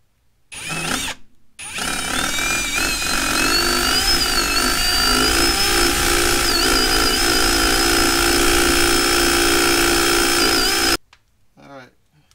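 A power drill runs steadily for about nine seconds, boring holes into the body of a Saturn Sky roadster during a ProBeam installation, loud and close after a brief start and stop, then cutting off.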